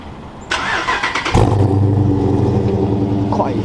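A Dodge Charger engine warm-starts with a brief crank, then catches with a loud burst and settles into a steady, rumbling idle close by; some lighter handling noises come just before.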